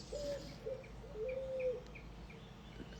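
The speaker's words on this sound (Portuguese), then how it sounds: "Ouviu o barulho da coruja?" An owl calls faintly from a distance in a quiet outdoor setting with a low background hum. A few soft, hooting coos are spaced over a few seconds, with tiny chirps above them.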